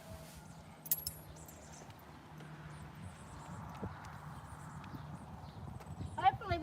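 A horse's hooves clip-clop steadily on the ground as she is readied and bridled, with muffled voices and a bright metallic jingle near the end.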